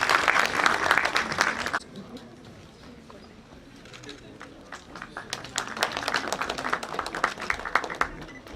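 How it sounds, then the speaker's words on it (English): Applause from a conference audience after a set of presentations, a burst of clapping for about two seconds, a lull, then a second round of scattered claps building again. "Big round of applause,"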